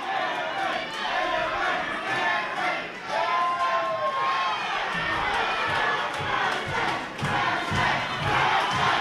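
A boxing crowd at a women's bout cheers and roars loudly throughout, a dense wall of shouting voices with whistles and swells of noise.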